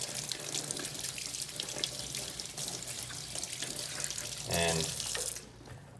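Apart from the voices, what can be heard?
rinsing scuba regulator parts under running fresh water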